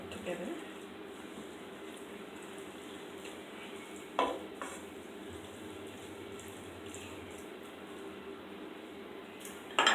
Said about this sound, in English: So we're gonna stir this all together.